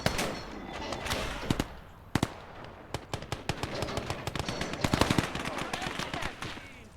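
Rapid machine-gun bursts crack out in the Motherland war game, dense and loud with irregular volleys and sharp single reports across the whole stretch, over a constant rumble of battle.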